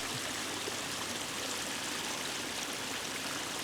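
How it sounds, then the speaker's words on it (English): Water from a garden waterfall feature pours steadily in a dense, continuous rush, close and even throughout with no voices. "Nothing beats relaxing next to a water feature at the end of a day."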